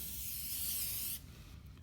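A single continuous burst of aerosol spray is applied onto bare skin before ankle taping, a close, bright hiss lasting just over a second before cutting off, followed by faint handling noise.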